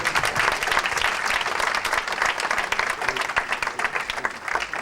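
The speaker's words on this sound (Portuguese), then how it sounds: "Você pode aplaudir a Deus por isso?" A church congregation applauding, a dense, steady wash of many hands clapping together, loud and sustained throughout with no pause.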